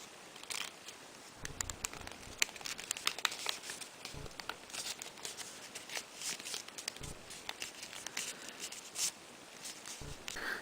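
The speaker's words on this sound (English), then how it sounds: "you want to push down on the middle of this and you want to fold it in half completely" Paper being folded in half for an origami dragon gives soft, irregular crinkles, creasing rustles and light taps, close and quiet.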